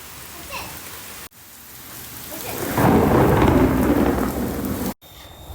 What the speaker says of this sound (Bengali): ওই দেখো কত বৃষ্টি পড়ে।